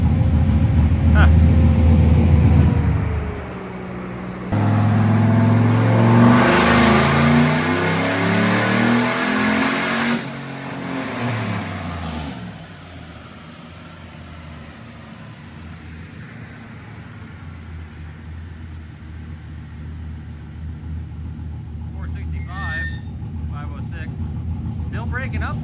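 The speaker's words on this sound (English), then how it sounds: "Yeah, it kind of broke up on the top end." Turbocharged OBS truck engine on a dyno revs hard, loud and close, for about ten seconds, stuttering and breaking up near the top end before dropping to a lower idle hum; people talk over it.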